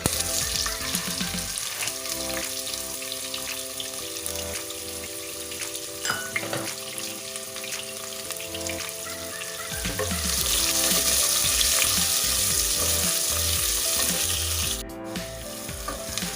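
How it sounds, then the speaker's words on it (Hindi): Sliced onions and cumin seeds sizzle and fry steadily in hot oil, a continuous close crackling hiss that swells louder partway through as the onions go in, with a brief clatter near the end. "जीरे की जब खुशबू आना शुरू हो जाए साथ ही हम इसमें डाल देंगे प्याज"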